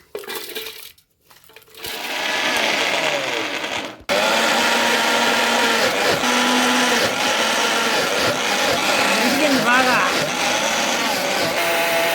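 Salt and chili ground to a smooth paste in a kitchen mixer grinder, loud and close: a short start-stop whir, then a continuous, even grinding drone with faint rattling inside the jar.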